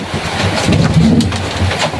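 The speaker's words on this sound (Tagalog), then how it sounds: "lakas ang ulan o" Heavy rain pouring steadily beside a vehicle, a dense, loud hiss with no pauses.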